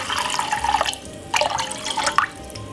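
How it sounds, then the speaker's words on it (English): Water poured into a glass holding a tablespoon of ginger, two short splashing bursts separated by a brief pause, close and clear. "all I'm going to do is pop some water in it like this"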